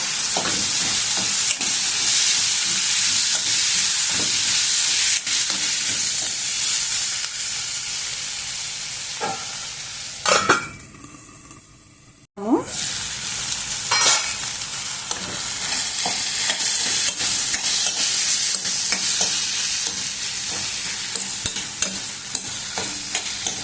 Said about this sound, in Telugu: ఇప్పుడు టమోటా ముక్కలను కూడా వేసి కొద్దిసేపు మగ్గనిద్దాము